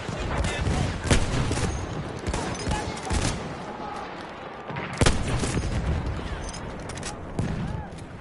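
Heavy gunfire from a WWI-era video game battle, with enemy machine gun bursts among repeated loud shots and booms that overlap through the whole stretch, and a voice talking underneath.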